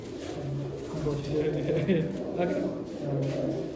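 Racing pigeons at a loft cooing in repeated low, soft, rolling calls, several birds close by, with people talking over them throughout.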